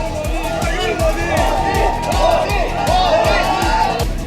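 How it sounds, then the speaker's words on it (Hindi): A large crowd chants "Modi, Modi" in a loud, rhythmic, repeated call, with shouts and cheering mixed in and a steady pulsing beat. "लोगों की भारी भीड़ थी और भीड़ से मोदी मोदी के नारे गूंज रहे थे।"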